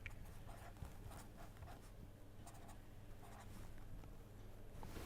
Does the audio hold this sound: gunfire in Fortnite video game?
no